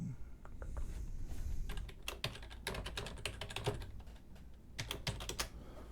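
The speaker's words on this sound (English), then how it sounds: "Let's type in my password." Keys clatter on a computer keyboard as a password is entered, a quick irregular run of light close taps with small pauses, quiet and alone.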